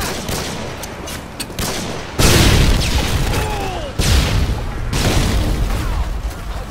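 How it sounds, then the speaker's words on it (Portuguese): Explosions and gunfire in Call of Duty Modern Warfare 2: scattered shots, then a loud grenade blast at about two seconds and another heavy boom shortly after, over ongoing battle noise. "Granada!"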